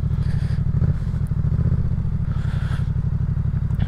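A motorcycle idles and turns around on a road, its steady engine loud and close with a low pulsing rumble and slight revs, and no talking.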